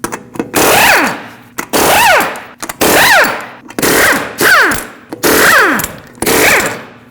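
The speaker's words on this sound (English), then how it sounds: "use a 21mm socket, remove all 6 lug nuts, and then pull the wheel off" Impact wrench spinning off lug nuts with a 21mm socket on a 2005-2021 Nissan Frontier, heard as six separate loud rattling bursts, each a second or so long with short pauses between.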